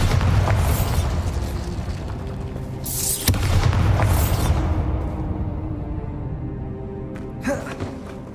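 A Bombarda explosion spell goes off in Hogwarts Legacy, a loud booming burst followed by a crackling decay over dense, busy game ambience and music, with a couple of further sharp bursts later.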